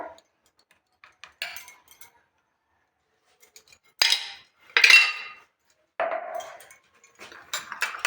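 Metal spoon clinks against a bowl as a spoonful of ingredient goes into a cream mixture for a bottle gourd and biscuit cake, several short bright clinks and scrapes separated by silence, close and fairly loud.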